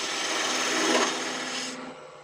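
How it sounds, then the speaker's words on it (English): Close, steady scraping rasp of a Continental spindle gouge cutting a spinning wooden snowman head on a lathe, swelling slightly mid-way and then easing off. "I will use my Continental Spindle Gouge for doing it"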